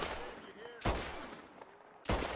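Two sharp pistol shots in Red Dead Redemption 2, about a second apart, loud and close, with faint game ambience between them.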